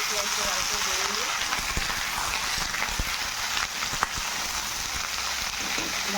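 Pumpkin and potato fry with browned onion in a pan, giving a steady, close sizzle and crackle with a few small pops and no break.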